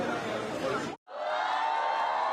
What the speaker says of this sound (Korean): 관객석에선 환호성이 터져나옵니다